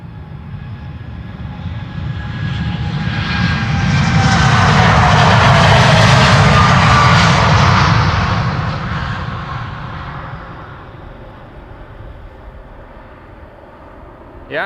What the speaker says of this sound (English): This is United Airlines Flight 908 going to Chicago.